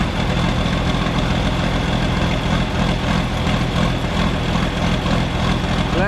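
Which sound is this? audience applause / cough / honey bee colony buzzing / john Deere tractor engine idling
john Deere tractor engine idling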